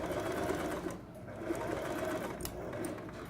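An office sewing machine running steadily as it stitches fabric, with a close, continuous mechanical whir that dips briefly partway through before carrying on.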